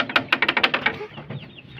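Organic chickens feeding on maggots cluck in a quick run of sharp, close clucks, then fade into softer scattered murmuring.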